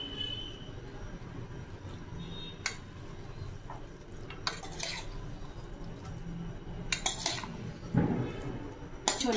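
Utensil scraping and clattering against a pan as veg noodles are tossed with red and green chilli sauces, a steady low stir with sharper metallic clinks near the end, no voices.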